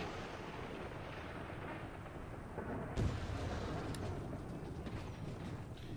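Artillery fire in the Empire Total War video game sounds as a distant, rumbling barrage of booms under a steady wash of battlefield noise. One heavier thud stands out near the middle.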